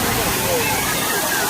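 A water fountain in Millennium Park, Chicago, a dense, loud, continuous rush of splashing water close by, with faint crowd babble mixed in.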